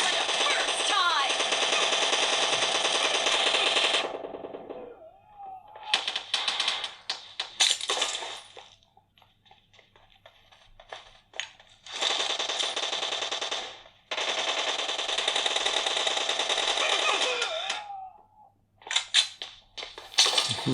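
Bursts of rapid automatic gunfire from PUBG Mobile on a Samsung Galaxy M11, loud and close, coming in long sustained volleys separated by short pauses and scattered single shots.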